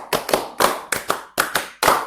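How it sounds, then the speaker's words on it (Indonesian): A group of junior high students in a counseling session clap together in a counted pattern, sharp bursts of hand claps grouped in uneven clusters, loud and close with no talking. "Tepuk 1, tepuk 2, tepuk 3, tepuk 4, tepuk 5. 2 kali tepuk 5."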